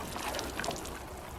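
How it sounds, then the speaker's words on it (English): Water splashes from a can onto freshly sown Autumn King 2 carrot seeds in a garden bed, a soft, steady hiss that stays faint and close throughout. "Right, we'll just water those in."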